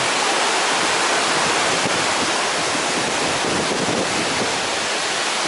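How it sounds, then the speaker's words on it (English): River water rushes loudly where the Afon Nankol joins the Afon Artro beneath a bridge, a dense, constant roar of flowing water close by with no breaks. "That's the Afon Nankol joining the Afon Artro,"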